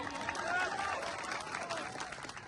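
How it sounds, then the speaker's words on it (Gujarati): A crowd applauding police officers at a Gujarati political rally where a politician speaks: a dense, steady wash of clapping for a few seconds, with voices mixed in. "અહીંયા જેટલા પણ પોલીસ અધિકારીઓ છે એમના માટે જોરદાર તાળીઓ પાડી લો"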